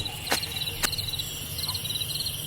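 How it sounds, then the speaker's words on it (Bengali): Crickets chirp in a forest as an audio drama effect, steady rapid trills repeating in short bursts over a faint hiss, with two brief clicks early on and no voices. "শুধু শুনতে পাচ্ছি ঝিঝি পোকার সেই বিটকেল শব্দ"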